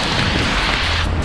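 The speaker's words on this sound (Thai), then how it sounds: "โอ้ยฝนตกด้วยอ่ะ ต้องรีบวิ่งไปละกันเนาะ" Rain falls outdoors in Korea, a loud, dense, steady hiss of drops with wind noise buffeting the microphone and no voices.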